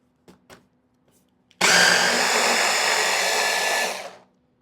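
Food processor grinding hazelnuts into a hazelnut cream, a loud whirring motor starting abruptly and running steadily for about two seconds before cutting off, preceded by a few faint clicks.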